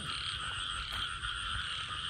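Field frogs croak at night in a rice paddy, a dense continuous chorus of overlapping calls, loud and close, with no voices.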